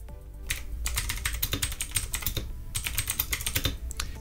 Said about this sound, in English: Wow, the space bar sounds way better actually.